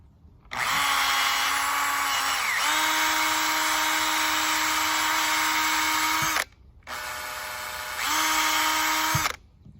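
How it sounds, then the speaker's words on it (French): A power drill bores a hole through a rooftop cable gland for an antenna wire, a loud steady motor whine running for several seconds, a brief pause, then a second shorter burst, with no talking. "Donc, on perce notre trou là-dedans."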